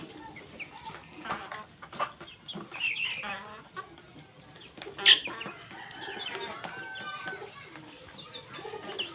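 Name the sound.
Fayoumi chickens clucking at feeding time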